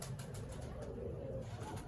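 A pigeon gives a soft, low, rolling coo, faint and somewhat distant, lasting under two seconds.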